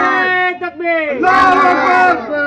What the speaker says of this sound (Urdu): حضرات دیکھیے نعرے لگے ہیں اور نعرہ لگنا بھی چاہیے